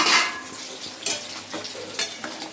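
Potatoes and chicken fry in a pan, a steady sizzle broken by several sharp scraping stirs of a utensil against the metal, close and fairly loud.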